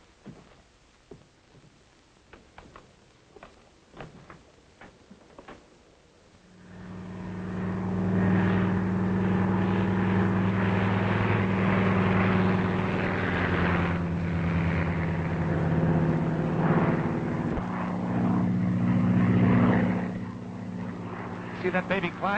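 A propeller airplane takes off and climbs, its engine swelling from a quiet start into a loud, steady droning roar that holds for many seconds; faint voices come before the engine builds.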